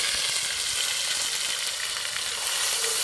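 Spice paste hits hot oil tempered with black cumin, giving a loud, dense, close sizzle that holds steady throughout with no voices.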